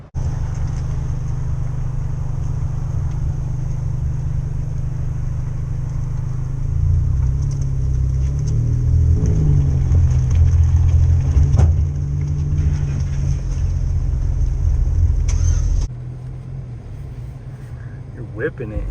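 A 2023 Chevy Colorado Z71 pickup, loaded in the bed, drives while towing, its steady low engine and road rumble filling the cab from start to finish, with people talking over it throughout.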